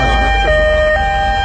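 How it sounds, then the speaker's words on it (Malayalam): An ambulance siren blares loud and close as the vehicle arrives, a brief wailing tone over low road rumble. "ആംബുലൻസ് എത്തി, ആംബുലൻസ് എത്തി."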